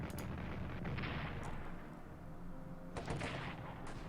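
Artillery fire in the strategy game Strategic Command: World War I, dense rumbling booms and blasts rolling continuously, with sharper impacts near the start and around the three-second mark.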